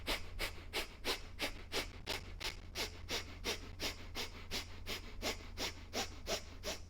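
Rapid short sharp nasal inhales from a yoga breathing exercise, a steady quick rhythm of about three per second, close and clear with no talking.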